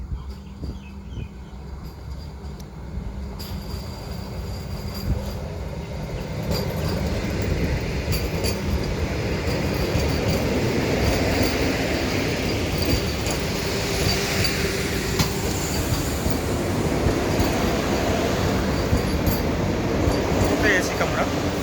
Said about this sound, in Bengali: হচ্ছে বন্দে ভারত, এনজেপি টু গৌহাটি।